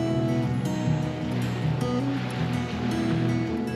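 Continuous broad roar of sea waves off Barbuda with wind noise, plus a steady low engine-like hum underneath; no speech.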